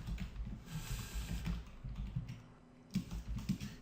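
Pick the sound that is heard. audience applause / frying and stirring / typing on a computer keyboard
typing on a computer keyboard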